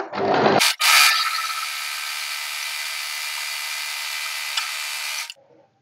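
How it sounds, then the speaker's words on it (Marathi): A sewing machine runs in one long steady burst as it stitches a fabric strip along one side of a katori blouse, close and loud, starting after a brief whir and stopping near the end, with no talk. "त्यानंतर एका साईडने स्टिच करून घेते पट्टीला."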